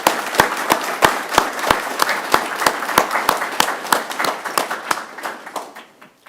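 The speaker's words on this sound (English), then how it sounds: "Can we give them a round of applause?" A council meeting audience applauds in a series of sharp, evenly spaced claps that fade toward the end, close and fairly loud, with no talk over them.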